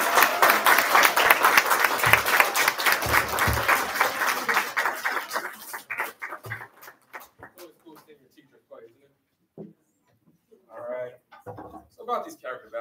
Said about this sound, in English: applause for these two